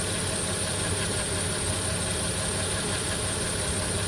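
A Nissan Frontier or Xterra engine runs steadily during a Seafoam intake cleaner spray, giving a continuous close, even idle drone with no pauses and no talking.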